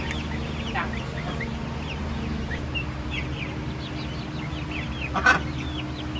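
Chickens and young chicks clucking and peeping in a backyard enclosure, a busy chorus of short calls close by with one sharp louder burst near the end.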